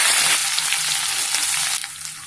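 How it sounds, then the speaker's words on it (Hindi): Roasted spices hitting hot oil over a medium-low flame while cooking dry bhindi sabzi, a loud continuous sizzle close up with faint stirring taps, easing slightly toward the end. "ये जो मसाले भुने थे ये मसाले डाल देंगे"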